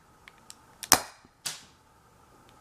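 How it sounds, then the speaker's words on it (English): A homemade gas-powered BB sniper rifle fires with a sharp, loud crack followed by a second shot-like snap about half a second later, with a few small clicks before and after. "And here we go, firing."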